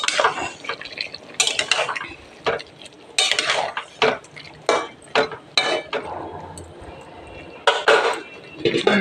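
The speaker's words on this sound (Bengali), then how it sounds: "মাংসটাকে চাপাটা খুলে দেখবো," Chicken is stirred in a cooking pot with a metal spoon, giving irregular scraping and clanking bursts separated by short pauses and a soft background hiss, close by and with no talk.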